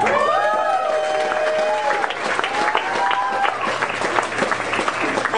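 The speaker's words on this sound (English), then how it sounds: "Give it up for Kat" Audience applause for a speaker at a Pecha Kucha presentation night in Milwaukee, a steady wash of clapping with some whistles and cheers, close and sustained throughout.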